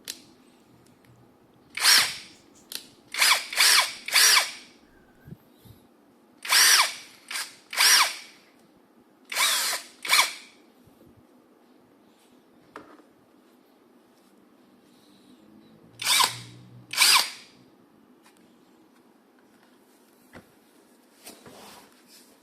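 A Tanzu cordless drill whirs in short, loud bursts of a second or two, starting and stopping repeatedly with quiet gaps between runs.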